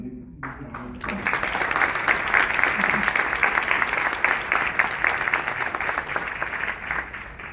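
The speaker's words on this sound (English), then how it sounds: "So I would just ask you to please give him a big round of applause." A conference audience at the inaugural session of Threads 2019 breaks into applause after a short pause, the dense clapping rising quickly and holding loud and steady to the end.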